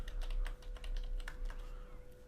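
Fingers type a demo account password on a computer keyboard, a quick run of light clicking keystrokes, close and fairly quiet.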